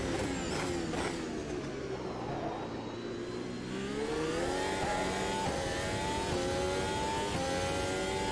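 Race car engines in the Automobilista 2 racing game at the Red Bull Ring drone and whine steadily, their pitch dipping and then climbing as the cars accelerate close together.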